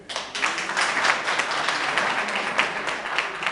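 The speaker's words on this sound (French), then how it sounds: "je voudrais que vous nous rendiez un grand hommage avec un applaudissement de tonnerre" Audience applause at a Moroccan association's first meeting: a dense, steady wash of many hands clapping, fairly loud and sustained throughout with no talk on top.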